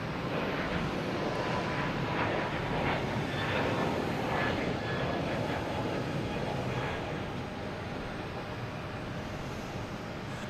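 Airbus A321neo jet at Boston Logan Airport, a steady broadband roar that swells slightly through the middle and eases toward the end, heard at a moderate distance with no talk.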